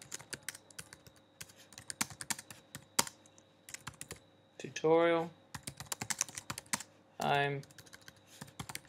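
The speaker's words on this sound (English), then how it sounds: "I'm typing too quick here, making lots of errors" Quick, close clicking of fingers typing on a computer keyboard, irregular clusters of key taps, with someone speaking briefly twice between bursts.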